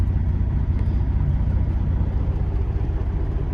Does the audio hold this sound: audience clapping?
no